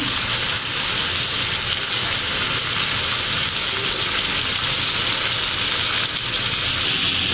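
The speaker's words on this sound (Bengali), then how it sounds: "আমি তেল দিয়ে নিছি এই পাশে আমি পটল দিয়ে ভাজি করে নেব" Pointed gourd (potol) frying in oil in a pan, a steady loud sizzle and hiss that holds unbroken throughout, close by and alone.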